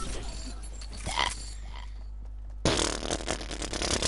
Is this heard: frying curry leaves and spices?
no